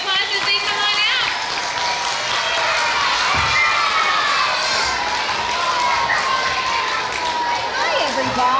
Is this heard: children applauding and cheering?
yes